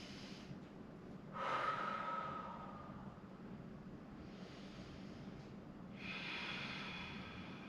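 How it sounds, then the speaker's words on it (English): Deep breaths taken during a stretch in a barre workout with a Pilates ball, two soft drawn-out inhales and exhales a few seconds apart, quiet and close with low background hum. "Take a few big deep breaths here."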